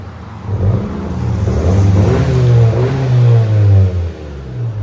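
A 2020 Honda Civic Sport with a 2.0L turbo engine and muffler and resonator delete revs steadily, its exhaust droning loud and close with a rising whir, no talk.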